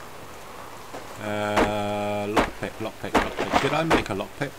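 Rain falling in the survival video game Subsistence, a constant patter beneath a tonal in-game sound and clattering knocks, while someone talks over it.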